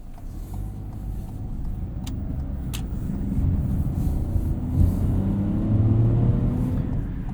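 2021 Ford Bronco Sport Big Bend on the road, a steady low engine and road rumble from inside the cabin that swells slightly as it accelerates, with no talking.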